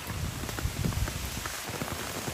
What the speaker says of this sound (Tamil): இங்கே பாருங்க மழை எப்படி பெஞ்சிட்டு இருக்குன்னு